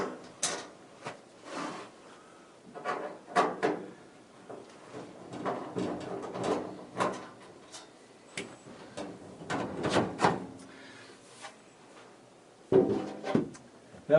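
Hex head screws being backed out of a Speed Queen dryer panel with a removable-tip screwdriver, giving irregular clicks, ratcheting ticks and small metallic knocks close by, with brief pauses between bursts.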